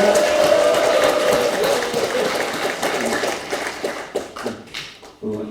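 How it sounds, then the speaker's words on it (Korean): Sustained applause from an audience at a Korean committee launch ceremony, dense and steady at first, then thinning into scattered claps and fading toward the end. "박수 부탁드립니다."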